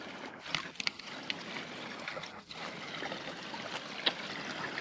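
A metal-detector find, a coin, is rinsed in swamp water outdoors, making faint, soft splashes and trickles with a few small sharper drips over a quiet open-air background.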